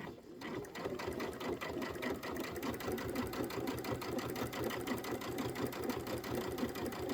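A sewing machine runs steadily, stitching a quilt seam for a Kimberbell Candy Corn Quilt Shoppe project, its rapid rhythmic needle clatter continuous and close throughout with no talk.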